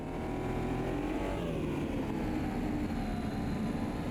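A street car driven in the racing game Automobilista 2, its engine droning steadily at moderate volume with a slight rise in pitch partway through, no talk over it.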